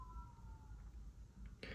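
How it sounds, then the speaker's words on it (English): Tornado warning sirens sound outdoors as a faint, steady wailing tone that slowly falls in pitch, far off beneath a continuous low rumble of background noise. "sirens going out on the outside."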